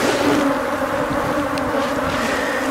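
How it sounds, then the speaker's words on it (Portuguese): Honeybees swarm and buzz loudly around an opened wooden hive box during propolis harvesting, a dense continuous drone with wind rumble underneath and no talk. "Vamos rápido que essa abelha tá ficando brava"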